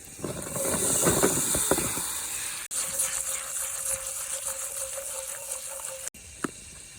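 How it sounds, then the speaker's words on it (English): Green beans with garlic sautéing in butter and oil on a grill burner, giving a steady loud sizzling hiss that runs throughout with brief breaks, no talking. "We're getting ready to put it on the burner and saute these green beans"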